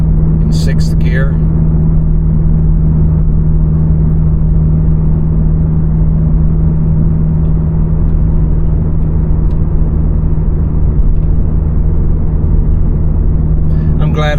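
A Toyota GR86/Subaru BRZ fitted with an AWE Touring exhaust cruises at about 50 in sixth gear, giving a loud, steady low drone and road rumble that barely changes, with brief sharp squeaks near the start and end.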